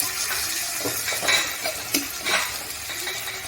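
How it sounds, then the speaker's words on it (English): Dry spice powder being stirred into hot water in a pan while cooking a lamb dish, heard as close, continuous scraping and swishing with faint sizzling and no talk. "Mix it and add a bit of hot water, which I brought in my trusty flask."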